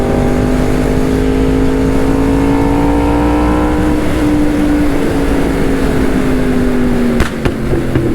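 A car engine accelerating hard during an overtake on the road, loud and continuous with a rising then falling engine tone, heard from inside the car with no talk.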